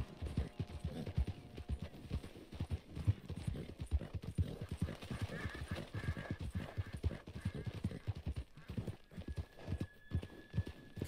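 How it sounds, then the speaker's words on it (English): Steady clip-clop of horse hooves trotting close by in the video game Red Dead Redemption 2, with a brief whinny and a low hum underneath. "Somebody's horse got lost in the mix."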